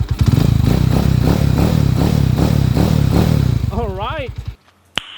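A motorcycle with a 200cc engine conversion and a newly replaced timing gear idles close and loud in a fast, even thumping rhythm, then cuts out abruptly, with a brief voice near the end.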